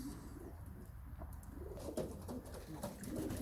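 Pigeons in a loft cooing softly amid a low, rustling background murmur, with faint soft calls repeating over a few seconds and no talk.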